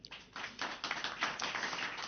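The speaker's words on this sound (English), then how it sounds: "A great round of applause for them." Audience applause for a stablecoin conference panel, a short burst of scattered clapping from a modest crowd at moderate level, with no talk over it.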